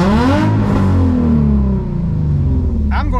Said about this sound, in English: It didn't seem very happy to rev there either.